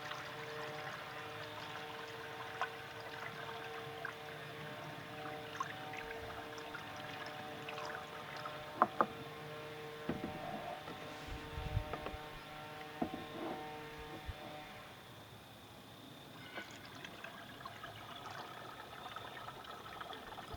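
Coolant pours steadily through a funnel into a 1997 Chevy Blazer with a 4.3L engine, a low continuous gush over a constant mechanical hum, with a few brief clanks partway through and the pour easing near the end.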